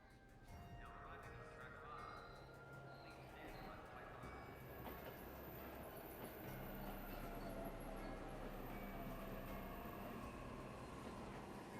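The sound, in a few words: train in video game 13 Sentinels: Aegis Rim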